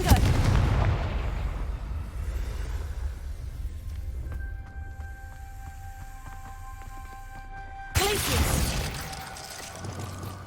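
A Confringo blasting spell in Hogwarts Legacy lands with a loud, booming explosion at the start, rumble fading over several seconds, then a second sharp burst near the end, with faint magical tones in between.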